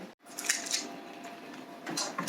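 A tray of orange slice cookies slides into a home oven, a couple of brief metallic clinks and scrapes of the pan against the rack, close and fairly quiet, with no talking.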